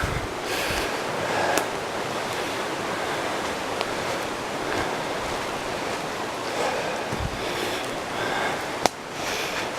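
Broadband rushing water from a creek flowing through the narrows of Hans Creek in a mountain area, a continuous steady wash with a few brief knocks and a sharp click near the end, no talking.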